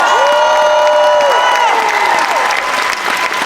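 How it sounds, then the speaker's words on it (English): A crowd claps and cheers loudly, with scattered whoops rising over dense, steady applause. "give yourself a round of applause for being here"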